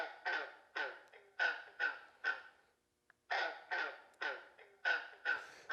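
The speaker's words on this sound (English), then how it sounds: "We've got a green frog. He has a totally different voice." A green frog calls in a series of short, twangy, throaty notes, six in a row and then four more after a brief pause, close and clear with no talking.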